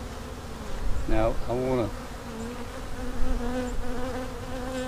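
Honey bees drone in a continuous close buzz during a transfer into an observation hive, while someone speaks briefly early on.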